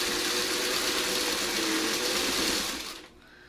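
A sewing machine stitching pieced fabric strips whirs in a steady, close, continuous run for about three seconds, then stops abruptly, leaving quiet room tone.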